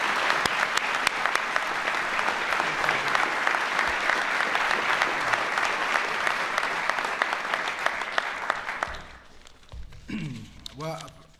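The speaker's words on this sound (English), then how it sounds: "Let's give Jose a big round of applause," A large audience at a Wounded Warrior Soldier Ride event gives a loud, sustained round of applause that fades after about nine seconds, leaving someone speaking.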